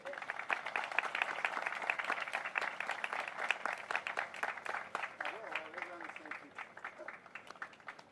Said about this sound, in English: Please give him a huge round of applause, Dr. De La Torre.